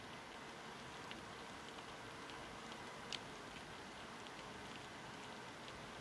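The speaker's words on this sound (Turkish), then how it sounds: "Vallahi yağmur ne bastırdı Muhittin ya." Steady rain falls in Bus Simulator Ultimate, a dense even hiss with faint pattering throughout and one brief tick near the middle, quiet and continuous.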